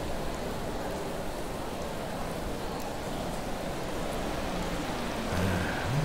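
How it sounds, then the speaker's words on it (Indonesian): Steady rain hisses continuously in the Yakuza 4 video game, an even, fairly loud wash of falling water with no talk over it. "Baru juga gua keluar, udah hujan lagi."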